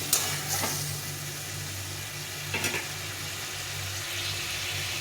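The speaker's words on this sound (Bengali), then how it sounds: "টমেটোটা ভালো করে কষিয়ে নিতে হবে।" Tomatoes sauté in a pan over a gas flame, giving a steady low sizzle with a constant hum under it and a couple of brief stirring scrapes.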